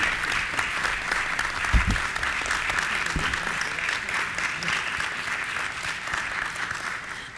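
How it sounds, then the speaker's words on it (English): Sustained audience applause for conference panelists at the close of a research review panel, steady dense clapping from a sizable crowd lasting throughout, with a few louder low thumps near the start. "Let's give them a round of applause."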